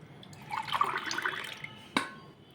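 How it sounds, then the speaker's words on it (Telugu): Orange juice pours into a glass in a short, gurgling stream that fades, followed by a single clink of the glass. "నారింజ రసాన్ని కొలుస్తున్నాను గ్లాసులో."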